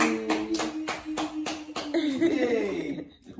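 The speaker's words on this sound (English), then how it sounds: "Clap for yourself." A child claps hands in a quick, regular series of sharp claps, close by, while adults talk and cheer over them before the clapping fades out.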